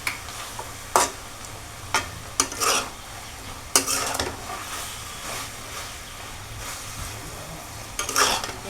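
Vegetables frying in a pan are stirred with a metal spatula, producing sharp clinks and scrapes against the pan every second or so over a low continuous sizzle, close by and with no talking.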